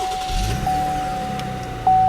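A 2018 Cadillac CT6's 3.6-liter V6 engine cranks and settles into a low, steady idle rumble, heard close, with a constant electronic chime tone running throughout.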